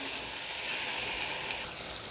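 Chopped onion, green chili and three garlic cloves sizzle while frying in a pan, giving a continuous moderate hiss with a few small pops near the end.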